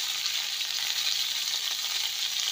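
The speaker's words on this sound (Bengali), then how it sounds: "এবার ফুলকপিগুলো দিয়ে দেবো। ভালো করে নেড়ে নেব।" Cauliflower sizzles and crackles in hot oil in a pan while being stirred, a loud, steady bright frying hiss close by with no voices.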